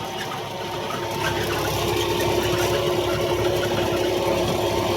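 A diesel tractor engine runs at a steady idle nearby, a loud continuous low rumble with a rhythmic knocking throb, growing slightly louder after the first second, with no voices.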